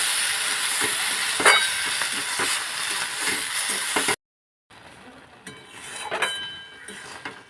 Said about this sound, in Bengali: এবার আমি শাকটা দিয়ে একটু নাড়াচাড়া করে নেব